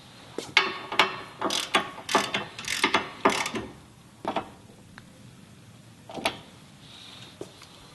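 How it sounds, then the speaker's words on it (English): A T50 Torx ratchet wrench clicks in quick bursts while tightening the hinge bolts on a Jeep JK body-mount tire carrier, close and crisp, then tapers to a few scattered clicks and light handling sounds. "tighten the additional 2 bolts on each hinge using your T50 Torx wrench"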